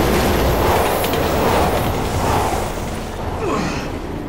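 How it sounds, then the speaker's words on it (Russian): A train passes in the Resident Evil video game, a loud continuous rumble with rattling wheels close by that eases slightly toward the end, heard alone without talk. "Так, стоп, едет поезд."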